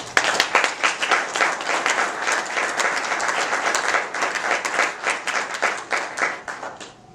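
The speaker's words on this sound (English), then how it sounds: "a big round of applause" An audience at a San Leandro State of the City event gives a sustained round of applause, dense steady clapping from many hands throughout, fading slightly at the end.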